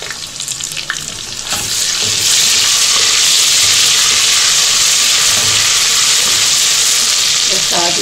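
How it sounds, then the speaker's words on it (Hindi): Two spoonfuls of garlic drop into a pan of light golden fried onions for a bean mince, the sizzle swelling sharply into a loud, steady frying hiss with occasional stirring scrapes, close up. "अब इसमें मैं ये 2 चम्मच लहसुन डालूंगी।"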